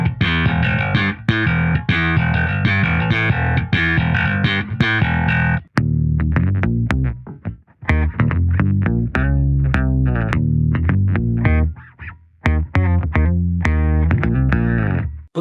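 A Godin Passion RG4 PJ bass, with both pickups wired in parallel for a jazz-bass-like tone, plays a continuous busy line of notes, loud and close, with brief gaps and no voices.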